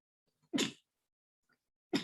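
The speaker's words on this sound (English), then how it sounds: "Oh my goodness, I'm sneezing." Two sharp, close sneezes about a second and a half apart, each a sudden explosive burst against near silence.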